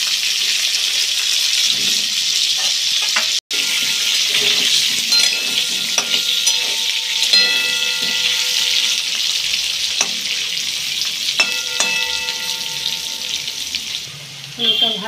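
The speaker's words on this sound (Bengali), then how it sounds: "এবার আলুটা ভেজে নেবো" Potatoes sizzle steadily as they fry in a pan, a continuous close crackle with occasional stirring and scraping, a few faint tap-water splashes, and a brief sharp click near the start.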